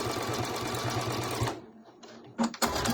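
A sewing machine runs a steady 2.5-length straight stitch along the top edge of fabric for a tablet and phone case, loud and close for about a second and a half, then stops, leaving soft handling sounds and brief bursts.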